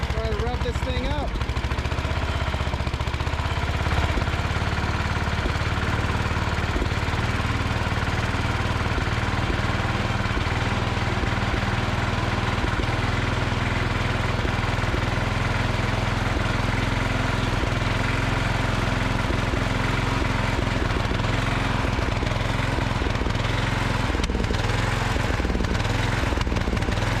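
A freshly started MTD 990 engine runs steadily and loudly, a continuous rough mechanical drone with no pauses.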